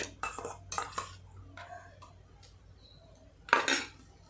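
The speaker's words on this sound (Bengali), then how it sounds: "দেখুন এবারে আমি কাবলি ছোলাটাকে কীভাবে মাখাচ্ছি" Spoon scraping and clinking against a bowl while boiled kabuli chickpeas are mixed with ginger, garlic and green chilli paste, in several short sharp bursts with quiet gaps, close by.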